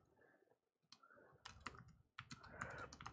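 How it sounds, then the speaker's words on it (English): Light clicking of typing on a computer keyboard, quick irregular bursts of keystrokes at a modest distance with short pauses between them, in a quiet room. "I hear the little typing away over there"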